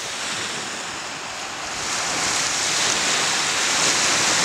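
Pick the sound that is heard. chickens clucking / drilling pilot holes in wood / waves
waves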